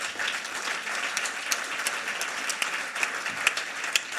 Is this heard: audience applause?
yes